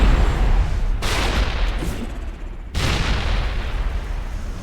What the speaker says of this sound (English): I got some grenades. Let me just toss these in there.